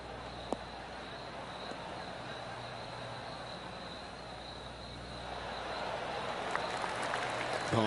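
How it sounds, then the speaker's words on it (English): Soft, steady golf clap applause from a gallery in the PGA Tour 2K23 video game, a continuous spattering of hands that swells slightly toward the end, heard without talk. "Oh, golf clap."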